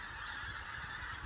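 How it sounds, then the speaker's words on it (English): Pink-footed geese honk in a continuous overlapping chorus overhead, a faint, distant-sounding flock calling without pause through the brief moment. "I could just hear all the pink-footed geese"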